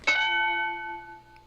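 A single struck bell rings out as a drinking-game sound effect, one clear ding with a long, steady ringing tone that fades over about a second, heard alone.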